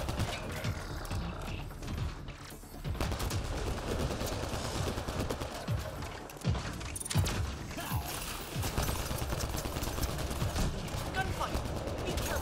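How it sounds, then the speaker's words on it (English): A gunfight in Mass Effect Andromeda: steady bursts of weapon fire and scattered impacts mixed with mechanical clanks and whirring, continuous and fairly busy at moderate loudness. "Gunfight."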